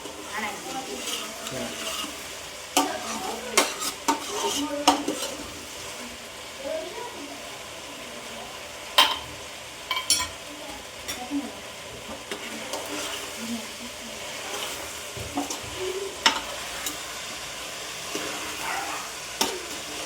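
Vegetables cooking in a pot for Girnari khichdi, a quiet continuous sizzle broken by frequent spoon scrapes and clinks against the pot, with faint background sounds throughout.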